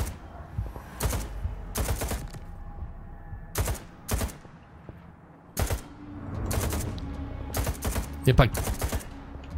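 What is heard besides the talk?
gun firing with heavy recoil in S.T.A.L.K.E.R. 2 video game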